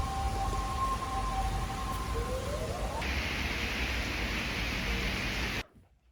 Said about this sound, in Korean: 비가 많이 와